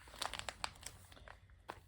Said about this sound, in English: I'm just writing jeans on it and folding that page over.